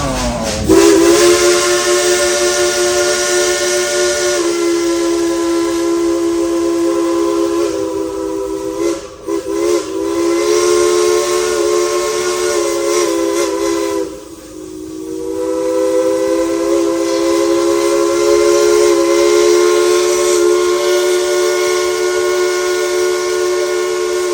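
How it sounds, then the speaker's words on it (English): The Dollywood Express steam locomotive whistle blows in long sustained blasts, briefly dropping out twice before sounding again, close and piercing. "1, 2, 3, blow the whistle"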